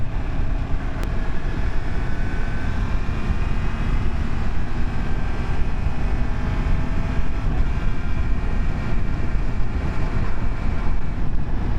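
Continuous roar of a 2023 Yamaha MT10 1000cc motorcycle under way, steady engine and wind rush throughout with smooth quick-shifted gear changes blending into the drone, loud and close, no talking.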